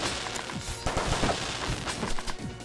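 Rapid firecracker attack in the fighting game Rivals of Aether, a dense crackle of small popping bursts with sharper pops scattered through, loud and continuous over busy game audio.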